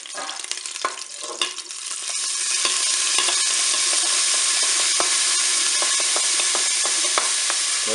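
Onions browning in the hot oiled pot of a Cookeo multicooker after pork loin has been seared, a steady close sizzle and fry hiss with scattered crackles, rising louder after the first couple of seconds and holding.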